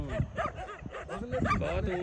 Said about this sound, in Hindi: ये कुत्ते अब हमला के लिए तैयार हैं